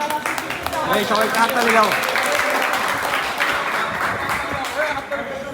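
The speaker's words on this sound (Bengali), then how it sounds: "হাততালি দাও" A group of people clap their hands during an evening coffee gathering after a program, with steady applause running throughout and several voices talking over it.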